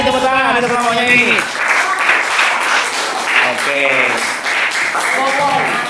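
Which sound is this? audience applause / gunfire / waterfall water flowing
audience applause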